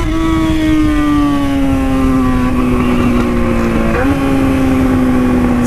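A motorcycle engine runs loud and close, holding a steady high drone that sags slightly and dips once before recovering.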